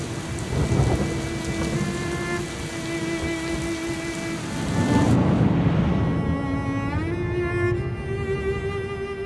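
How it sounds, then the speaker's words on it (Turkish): A thunderstorm with heavy, steady rain and rolling thunder rumbling underneath, with a sustained musical tone drifting over the downpour. "Şimşekten mi korktun yoksa?"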